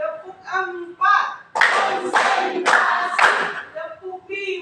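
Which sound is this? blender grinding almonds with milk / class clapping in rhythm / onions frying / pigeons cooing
class clapping in rhythm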